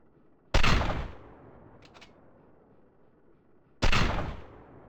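Two loud gunshots ring out in the video game GTA: The 3D Saga, spaced a few seconds apart, each a sharp close blast with a short decaying tail and faint clicks between them.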